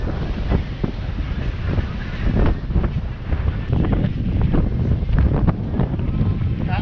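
Wind buffeting a sailboat crossing the Strait of Messina, loud gusting rush against the microphone with water and hull noise beneath, continuous and close.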